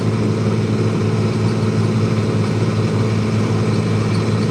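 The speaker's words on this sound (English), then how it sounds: "My 3688 tractor handles it pretty well" A 3688 tractor runs steadily in high 4th gear while pulling a New Holland 1411 discbine through hay, its loud, even engine drone and low harmonic rumble continuous throughout, close by, with no speech.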